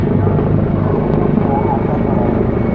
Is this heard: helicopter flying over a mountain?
yes